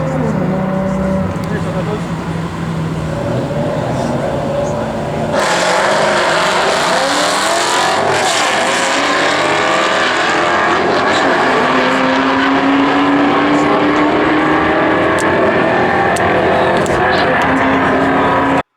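Engines of a 4.6L modular Ford Mustang and a built LS1 six-speed Pontiac GTO run hard side by side in a street race, with a loud continuous roar, rising revs and gear changes. Speech is faintly present under the engines.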